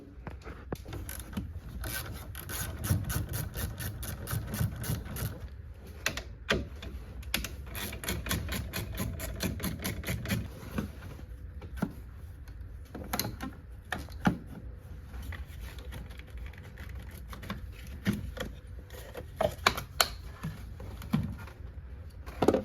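A ratchet wrench loosens the 12mm battery hold-down bolt on a 2019 Kia Forte. Long runs of rapid, close clicking continue with short pauses and keep a steady rhythm throughout.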